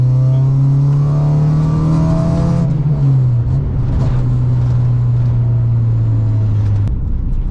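Loud engine revving close by in an EK hatchback car, holding a strong steady note before dropping and continuing to rumble at a lower pitch.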